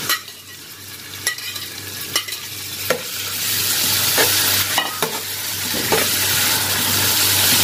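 Ginger garlic paste sizzles and fries in a hot pan for mutton keema with potatoes, with a steady close hiss that grows louder as a spoon scrapes and stirs in several distinct strokes.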